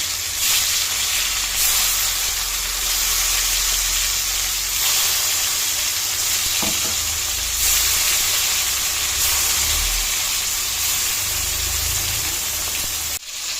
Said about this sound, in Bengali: তেলটা গরম হয়ে গেছে, এখন আমি একটা একটা করে মাংস দিয়ে দেবো।